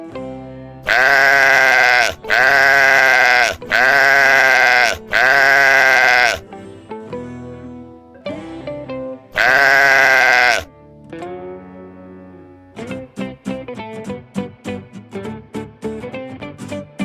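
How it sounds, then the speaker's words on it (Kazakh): Farm sheep bleat loudly in a series of four drawn-out calls in quick succession, then one more after a short pause, followed by mixed softer animal and background sounds. "овца, sheep."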